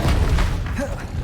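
A deep booming thump from the Expelliarmus spell in Hogwarts Legacy, a short heavy low-end hit with a brief swishing tail, loud and close.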